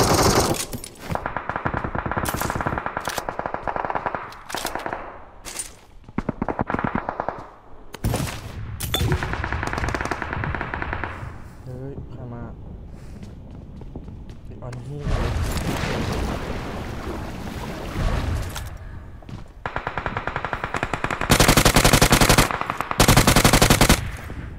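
Gunfire in the mobile battle-royale game PUBG Mobile: loud, close bursts of automatic rifle fire and single shots, repeated in clusters with brief gaps, ending in dense sustained volleys.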